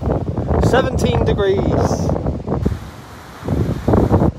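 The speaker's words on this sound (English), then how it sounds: "Ah, that was a big one. Big gust then." Strong storm wind gusting across Plymouth Hoe during Storm Francis, a loud broadband roar battering the microphone and swelling and easing in bursts beneath close speech.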